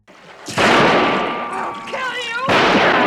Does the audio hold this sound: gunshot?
yes